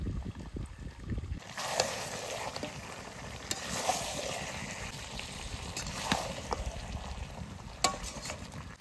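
Meat with potato, chopped tomato and garlic sizzles in a pan while being stirred, with a steady frying hiss and occasional sharp scrapes of a utensil against the pan.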